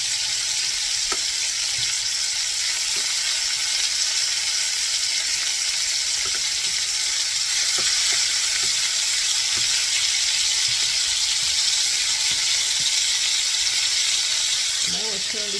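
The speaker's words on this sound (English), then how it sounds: "Turn this down a little bit, the heat, because this is browning a little bit too fast." Hungarian sausages sizzle and brown in a pan, a steady close hiss of frying fat with small crackles and occasional utensil taps throughout.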